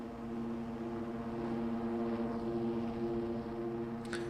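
Motocross bikes in a racing game hold revs at the start gate of the Washougal track. The engines make a steady, fairly faint droning hum that stays constant throughout, with no speech.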